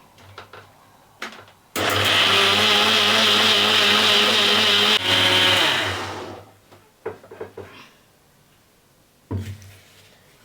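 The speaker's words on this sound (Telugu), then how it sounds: "ఇప్పుడు దీన్ని కంప్లీట్గా గ్రైండ్ చేసుకుందాం" A mixer grinder whirs loudly for about four seconds while grinding peanut chutney, starting abruptly and winding down, with brief clunks and handling noises of the jar before and after.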